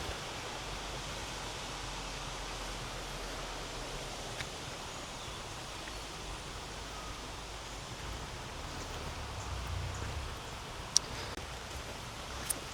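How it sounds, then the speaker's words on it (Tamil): Heavy rain pours down without letup in Kandy, a dense, even hiss that holds for the whole stretch with a few faint clicks and no voices. "மழை வர ஃபுல்லாக வந்து பெய்து கொண்டே இருக்குது விடுற மாதிரி இல்லை"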